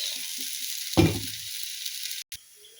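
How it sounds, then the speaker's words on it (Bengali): Carrots and potatoes fry in a pan with a steady, close hiss of sizzling oil, broken by a brief louder burst as the food is stirred. "দেখুন গাজর আর আলুটা হালকা ভাজা হয়ে গেছে।"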